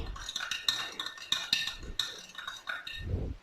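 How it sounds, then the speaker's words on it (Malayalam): A spoon stirs and clinks against a glass or bowl while aloe vera juice is mixed, with a quick run of close, bright metallic taps and scraping swirls. "ഇത് നന്നായിട്ട് മിക്സ് ചെയ്യാം"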